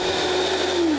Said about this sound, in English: We're using a Vitamix blender.